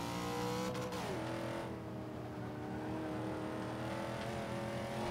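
A Buick GNX in the Forza 5 racing game on the Bathurst circuit, its engine droning steadily with a sharp drop in revs as it shifts, then pulling again at constant pitch.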